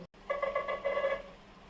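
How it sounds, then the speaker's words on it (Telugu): A smartphone rings with an incoming call, a single tonal ringtone burst of close, clear electronic notes after a brief silence, alone without any talking. "సో ఇక్కడ మీకు కాల్ రింగ్ అవుతుంది కదా"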